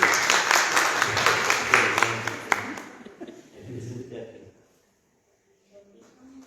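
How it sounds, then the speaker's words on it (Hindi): A crowd claps steadily for a young boy's shirt, a dense burst of applause that fades after a few seconds into quieter talk. "इसकी शर्ट के लिए भी तालियां होनी चाहिए"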